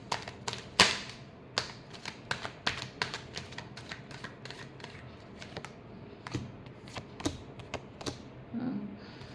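Tarot cards being shuffled close by, with a quick series of crisp riffling snaps and taps that come in uneven bursts over a quiet room, with no talk.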